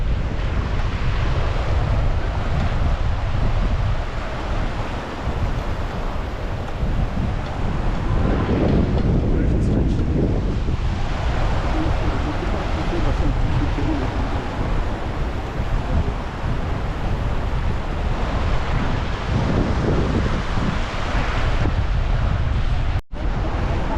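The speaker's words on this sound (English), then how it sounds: "continuously this hot water is flowing into the river" Hot spring water at Yellowstone runs into a river with a loud, constant rushing wash. Wind buffets the microphone and surges now and then over the water.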